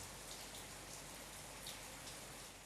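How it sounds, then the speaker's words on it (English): Rain falls steadily outside, a soft continuous hiss of drops heard faintly through a room with no talking. "Yeah, you can hear rain outside."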